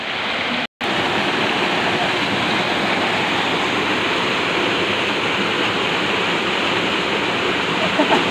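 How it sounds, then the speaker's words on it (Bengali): Boroitoli waterfall roaring as a steady, loud broadband rush of falling water, close and continuous with only a brief dropout near the start. "আমাদের ঝর্ণাটা দেখতে পাচ্ছেন"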